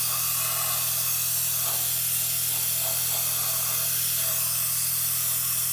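An airbrush hisses continuously in a steady, close spray while painting a 1/35 scale M109A7 model kit, with a low electrical hum underneath and no voices.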